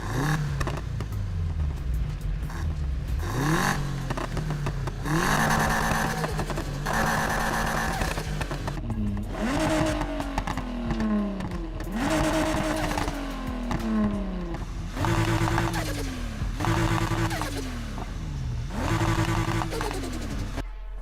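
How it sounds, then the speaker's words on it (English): Car engine in the video game Need for Speed Heat revs hard through repeated rising surges and gear shifts, each climb cut off and restarted, loud and continuous with a rhythmic acceleration pattern. "this game has some of the best car sounds I've ever heard in a game. Just listen to this."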